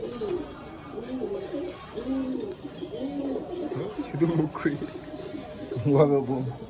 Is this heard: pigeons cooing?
yes